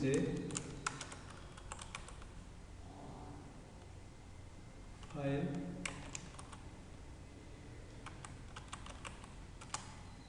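Java code being typed on a computer keyboard, heard as close clusters of quick key clicks with pauses between bursts, plus a faint low rumble and a brief louder burst around the midpoint.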